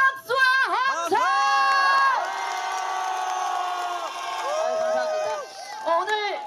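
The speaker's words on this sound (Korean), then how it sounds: "정말 잘했다 생각하시는 분들은 더 큰 소리로 박수와 함성!" Outdoor festival audience at a reed festival in Gangjin cheering and shouting with clapping, voices rising in bursts and whoops, then thinning out and swelling again near the end.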